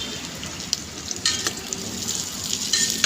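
Onion, chili and peppercorns sizzle and crackle in a pot for beef papaitan, a steady close fry with scattered sharper pops and brief bursts of spattering.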